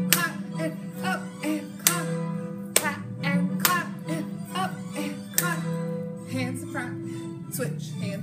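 First-grade children pat and clap their hands in rhythm to the March from The Nutcracker, sharp claps and softer pats landing on the beat over the orchestral music while a teacher calls out instructions.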